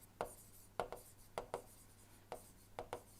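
Chalk or pen strokes during an engineering lecture on gas turbines: a quiet, close series of short scratchy taps and scrapes, often in quick pairs, with brief gaps between.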